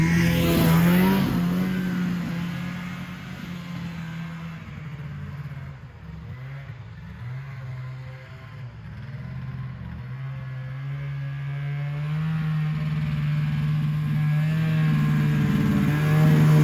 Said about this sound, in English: let's get this thing outside, and at least we can get it for a little test drive.